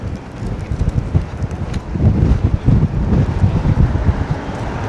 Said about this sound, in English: And man, it got windy.